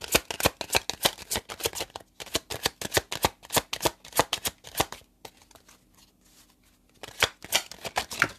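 A deck of tarot cards is shuffled by hand, rapid close riffling taps in quick bursts, a quieter lull in the middle, then a final short flurry.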